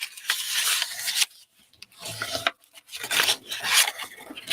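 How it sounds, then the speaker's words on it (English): Bone folder or tool rubbed firmly along folded paper score lines during a papercraft flower project, giving several dry rasping strokes in bursts with short pauses, close and fairly loud, no talking. "So let's fold and burnish the rest of our score lines."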